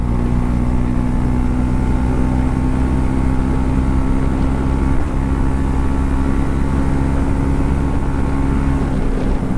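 A KTM Duke 250 motorcycle engine runs as a loud, steady, droning hum throughout, with no speech.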